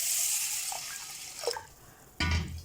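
Raw rice being washed by hand in water for appam batter, soft splashing and swishing with a few drips, faint and close, ending in a brief louder slosh.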